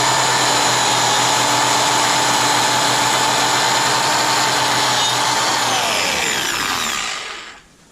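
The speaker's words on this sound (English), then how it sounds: "Handheld milling machine" A handheld milling machine for wood runs at full speed with a loud, steady motor whine and hum, then winds down and stops near the end.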